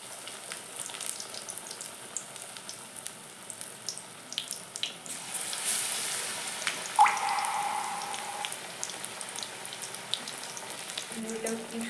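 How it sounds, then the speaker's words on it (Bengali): Brinjal fritters (beguni) frying in hot oil, a soft, steady sizzle and faint crackle at moderate distance, with a brief clink partway through and no talking. "বেগুনটা কি সুন্দরভাবে ফুলছে, অনেক সুন্দর ফুলতেছে বেগুনগুলো"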